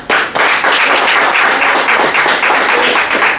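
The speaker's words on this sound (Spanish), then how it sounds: "Fuerte aplauso." Loud, dense audience applause at a university technology seminar, starting abruptly and continuing evenly throughout.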